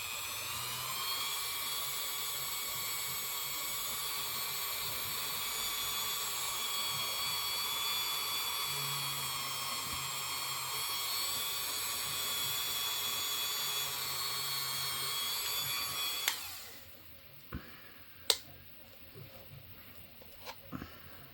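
A tiny drill bit grinds into a polymer clay bead, a steady high-pitched whine held close for about sixteen seconds before it cuts out, leaving a few sharp clicks and taps.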